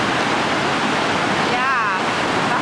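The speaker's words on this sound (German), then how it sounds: "Ja, Wasser gibt es hier genug. Manchmal sprudelt es auch ein bisschen mehr." Steady broadband rush of water churning and bubbling at a river or canal in Bydgoszcz in winter, loud and close, with a brief faint warbling tone partway through.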